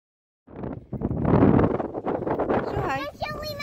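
Gusty wind at a lakeside campsite buffets the microphone in a low, rumbling roar while people talk over it, the rush swelling and easing throughout.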